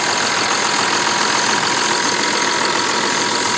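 A 2008 Kia Mohave 4WD SUV engine idling steadily up close, an even mechanical rumble with a faint ticking texture, no voices.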